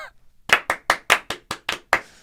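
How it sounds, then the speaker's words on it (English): A single person claps hands eight times in a slow, even rhythm, each clap sharp, loud and close, with a near-silent pause before the first. "when I'm clapping the hands like that"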